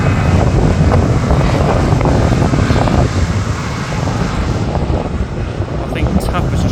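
Near Manchester Airport, a TAP Embraer aircraft makes a loud, continuous roar of jet engine noise mixed with wind buffeting on the microphone, steady throughout with no break.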